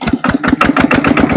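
A Chinese-made machine that has run for seven years and whose radiator needs constant refilling chugs loudly and close by, its engine knocking in a steady rapid rhythm with no talk over it.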